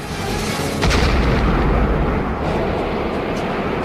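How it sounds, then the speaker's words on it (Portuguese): A missile detonates close to an F-4 Phantom jet in aerial combat, a deep sustained rumbling roar with a heavier swell about a second in, continuing loud and dense throughout without speech. "O míssil detona próximo ao Phantom de Hawkins e a nave treme com a explosão"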